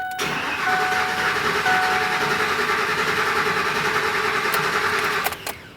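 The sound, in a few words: truck engine cranking without starting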